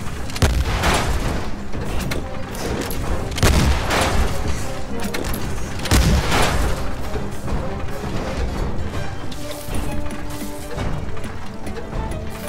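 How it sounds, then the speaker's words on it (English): Repeated heavy shotgun blasts with crashing booms from the Ironcast video game, loud and dense over a constant battle din, with several bursts spaced a few seconds apart. "Alright, shotgun time."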